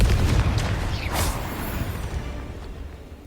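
A heavy magical blast from the Confringo fire spell in Hogwarts Legacy, a deep boom that decays into a rushing whoosh and fades over a few seconds.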